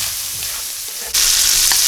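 Nasi goreng being stir-fried in a pan, a steady sizzling hiss with scraping stirring strokes, growing louder and brighter partway through as the frying intensifies.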